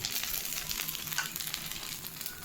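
Gola ruti, a batter flatbread, fries in a pan with a soft, even crackle that flickers with small pops. It is fairly quiet and close, and no one speaks.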